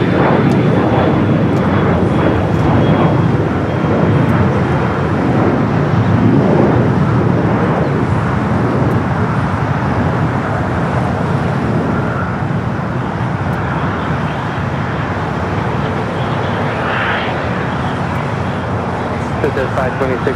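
An airliner taxiing at Los Angeles LAX toward runway 25 right, its engines a loud, steady broadband roar throughout, with a voice talking over it.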